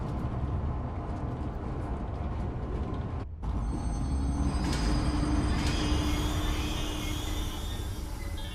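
Rumbling train ride in the video game Zoochosis: a steady, loud rolling rumble with a brief dropout partway, then resuming with faint tonal squeals and whines, without talk.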